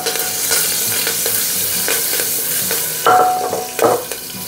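Cumin, asafoetida and green chili sizzle in a little oil in a pan, cooking for a light bottle gourd dish, with a steady close fry and occasional stirring scrapes and clinks.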